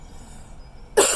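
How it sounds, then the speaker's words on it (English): A single short, sharp cough bursts out at the very end after near-silence in an outdoor allotment garden, close to the microphone. "I'm surprised I managed that long without having fit of cough."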